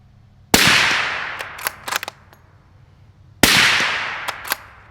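Two sharp suppressed 9mm pistol shots from a YHM R9 can firing Winchester 145 grain rounds into a dirt berm, each crack followed by a long decaying tail and some faint clinks between, loud and close with no talking.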